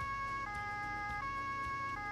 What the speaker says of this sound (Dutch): Is die sirene te hard?